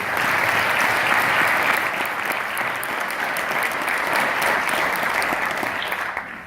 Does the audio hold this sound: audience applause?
yes